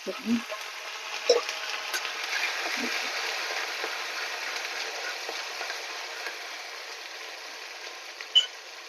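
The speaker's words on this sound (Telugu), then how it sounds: "కొంచెం ఆయిల్ వేసేసి హీట్ అయింది చూడండి జీలకర్ర ఆవాలు వేసిన మంచిగా ఎండుమిర్చి వేసేసుకుందాము" Cumin, mustard seeds and dried red chillies sizzle in hot oil, a close, continuous hiss with scattered pops and crackles and a few louder spits.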